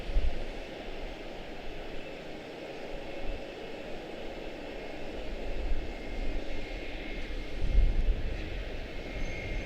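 An Etihad airliner on flight 16, a brand-new 2025 airframe, departing Charlotte-Douglas for Abu Dhabi, gives a steady, broad jet roar that swells and eases slightly at a distance, with no voices.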